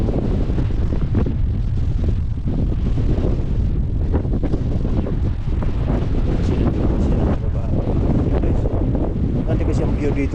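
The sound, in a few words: strong wind outdoors in Toronto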